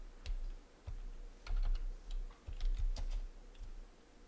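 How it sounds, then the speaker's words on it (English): Quiet, close typing on a computer keyboard, with a series of irregular light key clicks coming in small bursts over a few seconds and no voices. "go ahead and type in the Dimscale"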